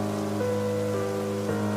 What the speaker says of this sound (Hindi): काफी ठंडी बारिश है, नहीं?